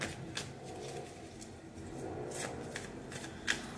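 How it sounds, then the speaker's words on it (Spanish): Soft riffling and sliding of a full tarot deck being shuffled and cards drawn, close and gentle, in a steady flutter with a few sharper flicks. "vamos a sacar tres cartas para Virgo"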